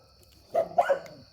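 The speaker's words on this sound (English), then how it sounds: "I need her to quit barking" A dog barks a few times in quick succession, close by and fairly loud in an otherwise quiet setting near an outdoor fire.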